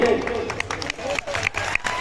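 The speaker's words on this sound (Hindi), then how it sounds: "तालियां बजाएं कृपया" Audience applause at a tribal cultural unity convention in India after a legislator's speech, a crowd clapping steadily with cheering and voices mixed in throughout.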